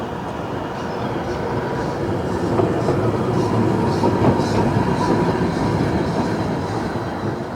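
A Blackpool boat tram rumbles past nearby during the Blackpool Illuminations, steady rolling wheels and a low mechanical hum, with faint clacks as it passes.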